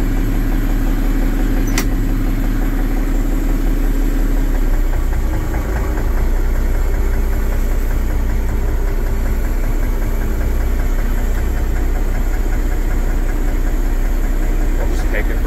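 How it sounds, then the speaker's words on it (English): A Massey Ferguson 1135 tractor engine idles with a low, steady rumble and knock, continuous throughout, with no voices. "It's a ranch tractor,"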